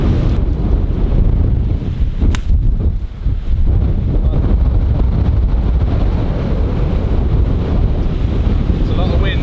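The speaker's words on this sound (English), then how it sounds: "It's a lot of wind, isn't it? That's massive. A strong wind." Strong wind gusts across an open golf course, roaring and buffeting the microphone steadily and loudly throughout, with a brief lull partway through.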